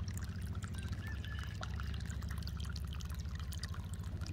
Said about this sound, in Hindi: पाँच दिन बाद इसको पानी दें